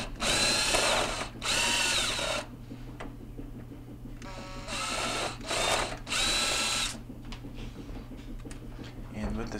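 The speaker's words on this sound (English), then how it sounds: "So I'm going to go ahead and remove that screw." A power driver spins a screw out of a Samsung refrigerator panel in several loud whirring bursts, separated by short pauses, over a steady background hum.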